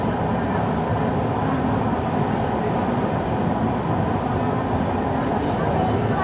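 A metro train rumbles past close by, a loud, steady broadband roar that holds evenly throughout with no voices over it.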